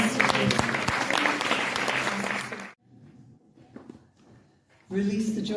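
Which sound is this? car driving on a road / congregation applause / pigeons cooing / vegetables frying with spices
congregation applause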